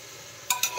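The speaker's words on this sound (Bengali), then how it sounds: "দিয়ে আবারও একটু নাড়াচাড়া করে নিতে হচ্ছে।" A chicken stew seasoned with black pepper is stirred in a pan, giving two quick scraping strokes close by over a faint background hiss.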